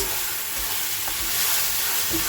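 A paste of ginger, garlic, chili and tomato fries in a pan, giving a steady close sizzle with faint stirring scrapes and no voices.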